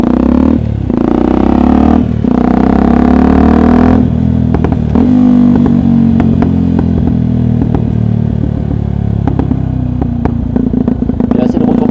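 Yamaha WR125X motorcycle with an aftermarket exhaust silencer, its engine droning steadily through the whole stretch with a few brief dips and clattery transients, running under someone talking continuously.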